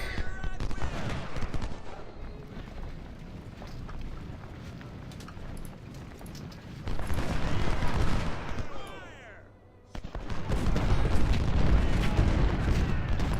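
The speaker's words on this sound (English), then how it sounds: "Let's do some counter battery fire on that Georgia artillery battery." Artillery fire in the Ultimate General: Civil War game, dense rumbling booms and crackling volleys over a continuous battle din, loud and sustained with a brief lull.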